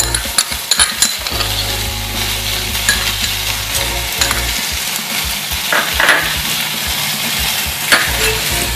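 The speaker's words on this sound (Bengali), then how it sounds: "সবজি কিন্তু দেখুন ফ্রাই হয়েই গেছে।" Vegetables fry in a pan with ginger paste for Indian-style masala pasta, a loud continuous sizzle with stirring scrapes and utensil clinks against the pan.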